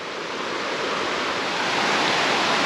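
Creek water rushing along a mountain hiking trail in the Smokies, a close, steady broadband wash of flowing water with no breaks and no voices.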